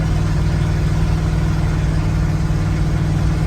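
A 1971 GMC Jimmy engine with headers and no exhaust idles loudly and steadily with a raw, open rumble, no talking over it.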